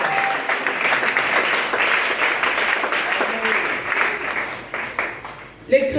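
A church congregation at an evangelistic service applauds steadily and fairly loudly, with crowd voices and a preacher speaking over the clapping.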